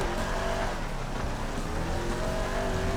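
A car driven in the video game GTA 5, a continuous loud engine drone with road and tire noise, steady throughout with no talking.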